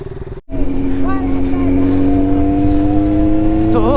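A Kawasaki Z900 motorcycle engine fires up after a short cut and settles into a loud, steady, close-up idle with a strong rumble, rising slightly in pitch near the end as the throttle is blipped.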